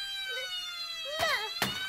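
A toy fire truck siren wails briefly with high electronic tones, punctuated by two short bursts of noise; no talking.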